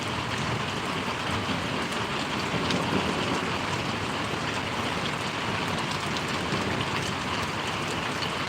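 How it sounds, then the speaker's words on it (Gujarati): Steady rain pours in Paravadi village, Gariyadhar taluka, a dense even hiss of drops on surfaces that holds unbroken throughout with no voices. "પાછો વધ્યો છે હળુ હળુ વરસાદ"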